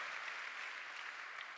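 A church congregation claps in a continuous, even wash of applause, steady and moderately distant throughout.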